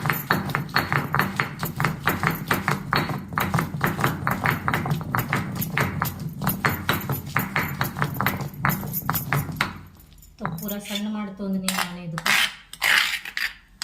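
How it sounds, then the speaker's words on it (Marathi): Chutney for vada pav ground by hand in a stone mortar and pestle, a fast steady run of sharp clacking strikes close up for about ten seconds, then a pause and a voice speaking. "तर हे चटणी पूर्ण बारीक करून घेतलेलं आहे खलबत्त्यामध्ये"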